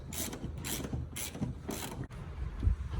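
A wrench loosens a bolt on a car seat in a Chevrolet S10 or Blazer, making four quick bursts of ratcheting clicks close by, followed by a softer grinding turn.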